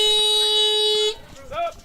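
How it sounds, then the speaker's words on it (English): A loud electronic buzzer sounds at a basketball game, one sustained steady tone held for about a second before cutting off, followed by brief crowd or voice noise in the gym. "We're going to get a buzzer going right here."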